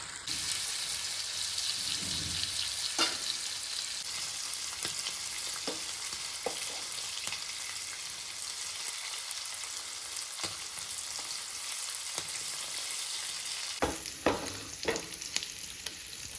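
Squid frying in a pan for a masala fry gives a steady, close hiss and sizzle that runs throughout, with occasional crackles and stirring clicks and no talking.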